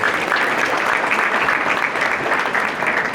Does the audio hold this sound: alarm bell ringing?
no